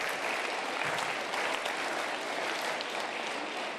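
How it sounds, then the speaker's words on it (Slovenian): Audience applause at a regional sports awards evening, a steady dense wash of clapping that holds at full strength from start to finish with no pauses. "Dajmo en aplavz, da se ogrejemo za to."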